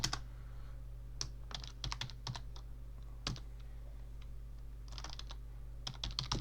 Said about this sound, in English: so I typed in ancient Egyptians here